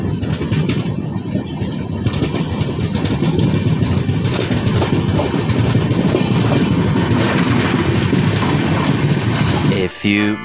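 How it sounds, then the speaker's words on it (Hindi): Passenger train departing Sasaram Junction at night in the monsoon rain, a loud continuous rumble with steady clickety-clack of wheels over rail joints heard from inside the coach, then a brief drop and a sharp clatter at the very end. "अब हमारी ट्रेन डिपार्ट कर रही है सासाराम जंक्शन से"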